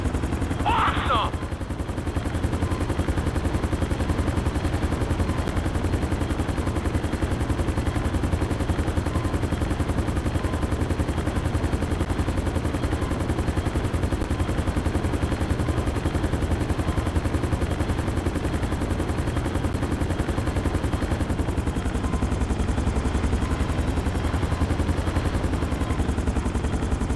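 A helicopter in Grand Theft Auto V flies and sets down on a landing pad, its dense, steady rotor and engine drone filling the whole span at constant loudness.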